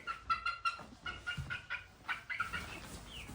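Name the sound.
chickens clucking in coop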